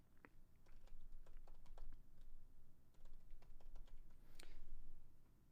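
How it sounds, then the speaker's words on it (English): Someone types on a computer keyboard, a close run of quick, irregular key clicks in bursts with brief pauses, with no one talking. "I have to work on my typing skills."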